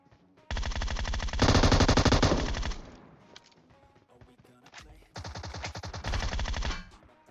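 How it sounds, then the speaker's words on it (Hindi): A Tommy gun in the PUBG Mobile video game fires two long, rapid automatic bursts separated by a short pause. Each burst is a loud, dense rattle of gunfire. "वो बंदा अभी तक टोमी गन चला रहा है भाई"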